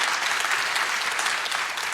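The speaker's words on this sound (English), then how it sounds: "I think that's worth a round of applause, don't you?" Audience applause at a nature charity interview event, dense continuous clapping from a crowd, fairly loud and even throughout the short stretch with no talk over it.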